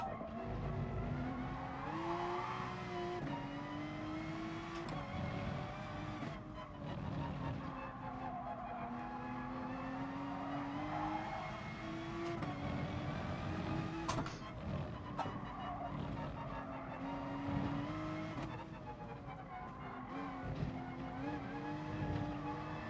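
A Porsche race car in the video game Gran Turismo Sport on a mountain circuit, its engine rising and falling through gear shifts with tire squeal through the corners, loud and continuous.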